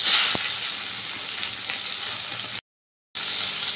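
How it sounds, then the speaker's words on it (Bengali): Chopped tomato pieces hit hot oil in a pan, setting off a loud, steady sizzling hiss with a brief clack at the start, continuing close and even until a short break. "এরপর আমি ওই তেলের মধ্যে দিয়ে দিচ্ছি টমেটো"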